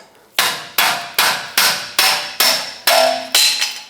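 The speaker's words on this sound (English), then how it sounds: "So I'm going to punch it out with a pry bar." A hammer strikes a pry bar to knock out a stuck parking brake shoe on a 2011-2018 Ram 2500, eight loud, ringing metallic blows in an even rhythm.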